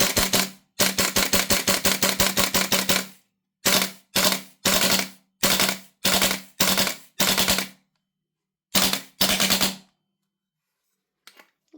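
Marksman IX AR9 airsoft gas blowback rifle firing full auto, a long rapid burst followed by several short, sharp bursts separated by pauses, loud and close with no talking.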